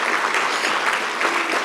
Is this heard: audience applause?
yes